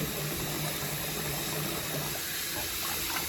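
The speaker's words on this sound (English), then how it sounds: "you got the little pusher thing here, which just gets rinsed off again" Running tap water splashes steadily over the plastic pusher part of an Omega 8006 juicer as it is rinsed in a sink, a continuous close hiss and gurgle.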